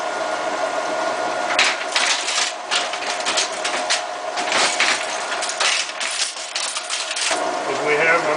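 A Linotype typesetting machine lowers its assembled line of type into casting position, giving a steady mechanical hum with bursts of rattling, clicking metal parts running throughout at close range.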